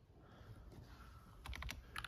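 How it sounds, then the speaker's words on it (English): Typing on a MATHEW TECH MK96 mechanical keyboard: a quick cluster of sharp key clicks near the end, close and fairly faint over a quiet room hum. "we can type from here"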